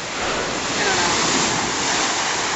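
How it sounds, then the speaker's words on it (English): Loud, dense roar of surf crashing and churning close by, a continuous wash of breaking water with no voices. "These waves are crazy though."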